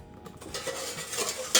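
Apples and sugar are stirred in a pot over high heat, a brief close run of scraping and clinking from the spoon against the metal with a light sizzle beneath, ending in a sharper clank.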